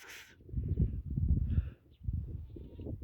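Goat bleating in a village yard in spring, a few rough, wavering calls close by, with a sharp high-pitched bleat at the start and fainter overlapping cries after a brief pause.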